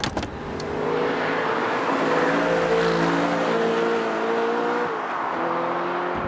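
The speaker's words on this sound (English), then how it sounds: "The engine feels just as special here. It revs like a complete nutcase" Audi R8 mid-engine sports car driving, its engine droning steadily and climbing in pitch as it revs, then easing briefly before pulling again, heard from close by with no talk.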